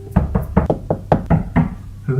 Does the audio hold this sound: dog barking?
no